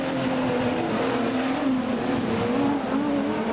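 Production sedan race cars circle Kingaroy Speedway in a season-opening A-main, their engines droning loud and steady with a wavering pitch that rises and falls through the pack, alone without any talk.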